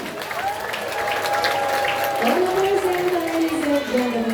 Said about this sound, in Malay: kita berikan tepukan yang gemuruh untuk Kasturi